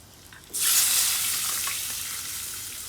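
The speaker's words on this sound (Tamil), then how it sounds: "இதுக்குள்ளே அவிச்சு வச்சுக்கிற ஆட்டிறைச்சியை போட போகிறேன்" After a quiet moment, a loud sizzle erupts as boiled mutton hits hot oil in a pan, then settles into steady, close frying.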